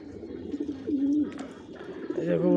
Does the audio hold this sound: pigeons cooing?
yes